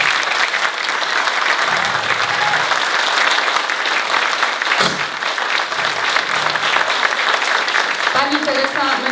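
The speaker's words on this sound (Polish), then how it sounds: "Ogromne brawa dla pani Teresy." An audience at a Christmas Carol stage performance gives Mrs Teresa long, steady, loud applause, with a voice briefly heard near the end.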